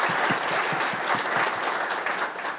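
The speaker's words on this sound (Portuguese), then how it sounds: "Uma salva de palmas para o Grupo Vila," An audience at a forum applauds, a dense, steady roar of many hands clapping together throughout, close and loud with no pauses.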